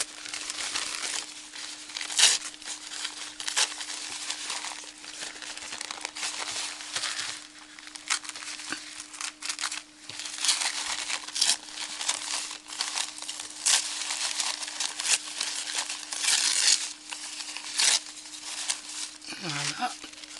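Material being torn by hand to decorate a Christmas bottle, a long run of close crinkling, ripping and rustling bursts over a steady faint hum.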